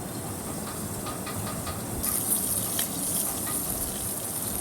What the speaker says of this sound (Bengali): আর এই যে মাছ ভাজা চলছে